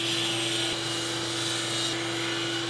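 A jointer face-joints a board of wood stock with a loud, steady whirring hum and a high cutting whine throughout, then cuts off abruptly at the end.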